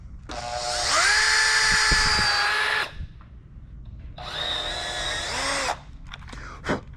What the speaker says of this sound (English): So it means time to drill.